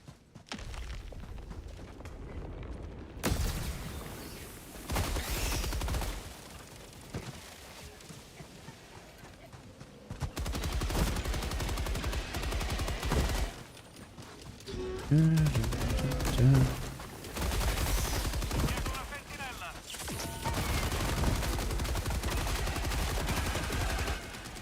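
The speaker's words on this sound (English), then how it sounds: "Hey, you're shooting at me." Gunfire in Helldivers, dense and continuous, with automatic bursts and overlapping shots from several weapons, loud and close, with voices talking underneath.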